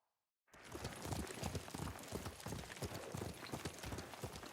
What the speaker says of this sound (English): What a good horse.